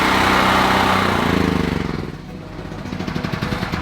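A generator powering an off-grid setup runs loud and close with a rough, steady engine drone, its tone shifting and dipping partway through before settling back into a throbbing hum.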